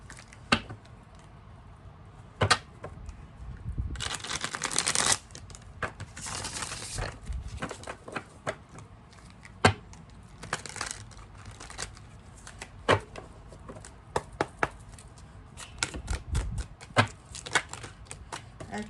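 Playing cards handled and drawn from a deck in a card-reading session, with soft riffling bursts, slides and sharp taps scattered across the stretch, close and fairly quiet, no talking.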